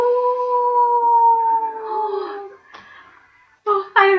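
A wolf howl in a fantasy tabletop role-playing scene rises as a long, wavering wail for about two and a half seconds, then a short sharp crack and two brief, loud yelping bursts near the end.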